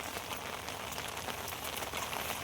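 Steady, dense rain falls outdoors in a flooded village during windy weather, a soft, even patter on surfaces throughout with no voices.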